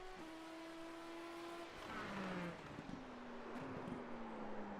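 An F1-style race car engine howls at steady high revs, then the pitch drops and shifts as it changes gear, heard from a distance over broadband wind and track noise.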